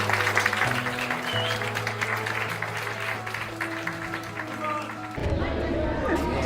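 A large audience gives a big round of applause at a tenth-anniversary event for the founders of HighNoon, a sustained dense patter of hands with crowd murmur mixed in, swelling louder near the end.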